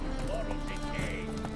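Roach, the horse in The Witcher 3, makes brisk hoof clip-clops under a voice and a musical background.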